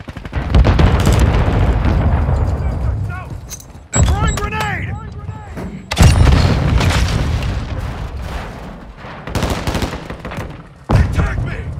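In a Call of Duty: Modern Warfare 2 multiplayer match, a grenade goes off with a heavy boom amid bursts of gunfire. Several loud blasts cut in sharply, while shouting voices carry over the battle.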